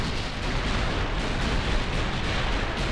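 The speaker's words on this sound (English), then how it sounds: "2 more torpedo hits" Heavy explosions from torpedo hits on a battleship in the naval game Ultimate Admiral: Dreadnoughts, a dense rumbling roar with repeated booming impacts layered over each other, loud and continuous with no voices.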